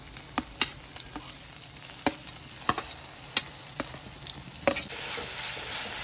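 Ginger garlic paste frying in a pan gives a low, steady sizzle. Scattered sharp taps and scrapes from a stirring utensil sound throughout, close up, with no voices.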